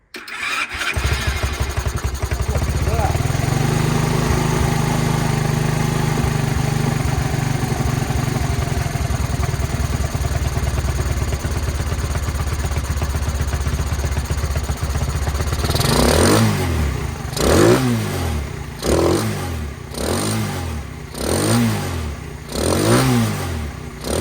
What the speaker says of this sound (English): Let's try the electric start, shall we?